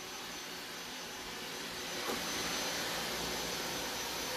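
Robot vacuum cleaners, a 360 S6 and a Roomba S5, run across the floor during a navigation test, giving a steady soft whirring hum that rises slightly partway through, faint and continuous.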